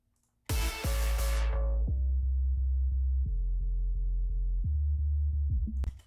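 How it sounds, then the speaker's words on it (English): A deep 808 sub bass sine tone in a drum and bass production plays alone, loud and steady, stepping between sustained low pitches after a brief bright attack. "that's literally just a sub. Nothing crazy going on here, just 808."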